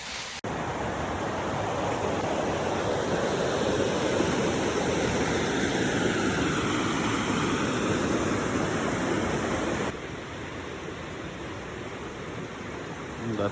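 Floodwater from Hurricane Debby rushes across land where no river normally runs, a steady, close broadband roar that holds for about ten seconds before dropping slightly in level.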